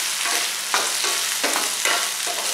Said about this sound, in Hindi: मैंने तकरीबन 200 ग्राम स्वीट कॉर्न लिए हुए है, इसको हम सौते करेंगे